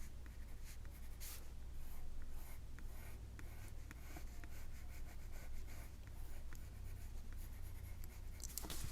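Colored pencil in indigo blue shading lightly over pen lines on paper, a steady soft scratchy rubbing that runs close and continuous throughout with no talk.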